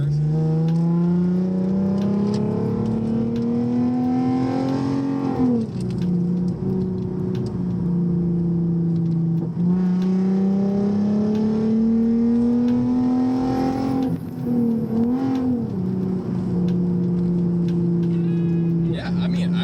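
A modified Lexus IS350 accelerates through corners, its engine note rising and falling in repeated sweeps from inside the cabin, easing off between pulls.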